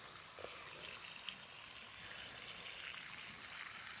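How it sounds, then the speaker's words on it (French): Water from a canal running onto a permaculture vegetable garden in August, a steady, faint trickling and splashing wash with a few small ticks, continuous throughout with no talking. "Alors j'arrose"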